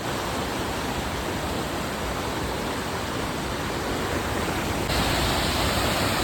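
Liwayway waterfall roars with steady, powerful rushing water, a loud, broad, unbroken wash of noise close by, with no voices over it.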